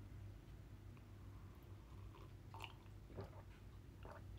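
Someone chews food close to the microphone during a livestream, with soft, quiet bites and crunches scattered over a steady low hum and no talking.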